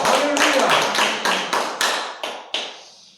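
A church congregation claps together in unison, roughly eight sharp, echoing claps in a steady rhythm, each ringing briefly in the hall before the last one fades out.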